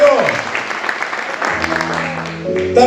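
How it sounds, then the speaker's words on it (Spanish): A church congregation applauds in a steady wash of clapping that fills the space, with a held tone from music or a voice rising beneath it in the second half. "¿Cuándo le dan un aplauso a este Dios que sigue siendo fiel?"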